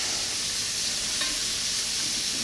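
Onion and garlic fry in a pan for mole sauce, giving a steady, close sizzle and hiss that runs without a break.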